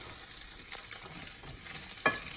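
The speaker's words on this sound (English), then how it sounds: "Continuing to cook, sizzle." Steady sizzling and crackling from eggs cooking in a frying pan with the gas turned off, faint and continuous, with a brief louder pop near the end.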